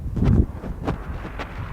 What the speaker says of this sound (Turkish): Hava rüzgarlı.